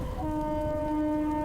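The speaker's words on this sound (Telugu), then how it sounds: "విజయవాడ నుండి గూడూరు వెళ్ళే మెమో ట్రైన్ అండి" Vijayawada to Gudur MEMU express train 17260 gives off a loud, close, steady tonal drone with layered pitches that holds for the whole stretch, over a rumbling low background.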